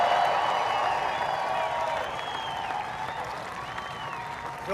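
A large crowd at an Iowa fairgrounds rally in Des Moines cheers and applauds steadily throughout, dense clapping with whoops mixed in, loud and close, and it rises again at the end.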